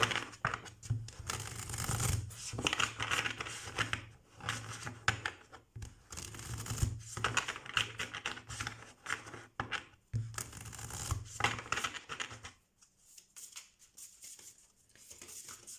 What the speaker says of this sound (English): I wonder if I want to pull a couple of cards.